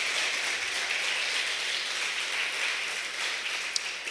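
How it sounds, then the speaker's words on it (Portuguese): A church congregation applauds, a dense, steady wash of many hands clapping at moderate level, sustained evenly for several seconds with no pauses. "Vamos aplaudir o Senhor Jesus bem forte"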